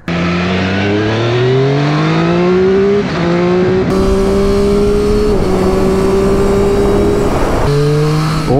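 A 2023 Triumph Street Triple 765 RS engine revs hard and climbs through gears, whining upward, briefly dropping between shifts, loud and close throughout.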